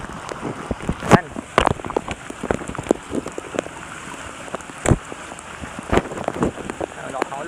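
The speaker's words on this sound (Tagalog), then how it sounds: "Lakas ng ulan, no?" Heavy rain falls steadily during a fishing outing, a dense hiss of drops hitting surfaces with sharper louder splats and bursts scattered throughout, close and continuous with no one speaking.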